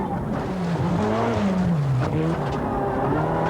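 A purpose-built Mazda rally car charges along a forest and mountain rally stage, its engine loud and close with rising and falling revs and gear changes, and brief tyre scrabble over the steady roar.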